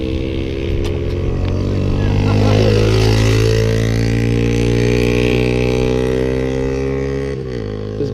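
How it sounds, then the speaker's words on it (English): Postie motorcycles on the Variety Bash charity ride roll past outdoors at a gold prospecting site, a steady droning engine note that swells and holds as several bikes pass close by, with light background noise. "There's been postie bikes coming through here the last 10 minutes."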